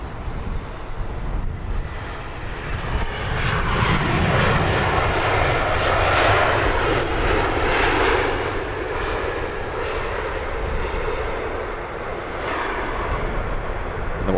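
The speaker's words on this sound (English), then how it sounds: "We can see turning on for a Southside arrival is the Etihad A380 in from Abu Dhabi" An Etihad Airbus A380 turns on approach for a south-side arrival at London Heathrow, its broad jet engine roar building steadily and staying loud and continuous throughout.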